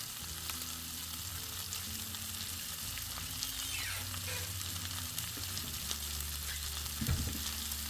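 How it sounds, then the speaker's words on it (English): Pork tenderloin searing in a cast iron pan gives a steady, fairly quiet sizzle throughout, with a few soft stirring scrapes and one brief clunk near the end. "So I just seared all sides of my pork tenderloin"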